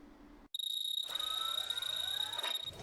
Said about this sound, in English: It's a loud beep.